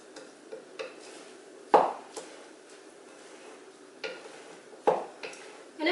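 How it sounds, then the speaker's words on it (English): A spoon mixes a vegan dish in a pan, giving a few sharp scraping clacks at irregular intervals over soft background hiss, close and fairly quiet, without speech. "I'm just going to mix this together with my spoon."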